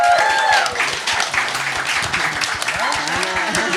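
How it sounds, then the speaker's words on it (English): A ballroom culture panel audience claps for the panelists: full, sustained applause with some cheering at the start, fading a little as a voice begins to speak over it near the end. "can we give the panel a round of applause"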